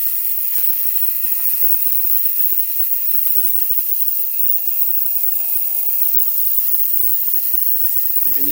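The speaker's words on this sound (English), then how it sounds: "We're gonna let that sit in the ultrasonic cleaner and come back when that's all cleaned out" An ultrasonic cleaner soaking an ATV carburetor gives off a constant loud, high-pitched electric hum and whine that runs unbroken throughout, with a few faint knocks underneath.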